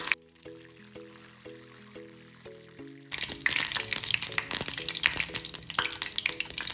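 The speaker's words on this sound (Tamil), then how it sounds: "இப்போ எண்ணெய் சூடாயிருச்சு கருவேப்பிலை சேர்த்துக்கிறேன்" Curry leaves drop into hot oil for an egg masala. Soft music plays at first, then a loud, dense crackling sizzle takes over close by.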